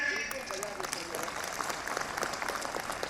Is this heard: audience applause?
yes